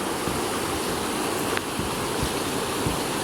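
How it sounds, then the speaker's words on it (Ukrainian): Steady broadband rush of a stream flowing through a canyon, close and continuous, with a faint soft knock or two partway through. "Вода шумить дуже класно, послухайте"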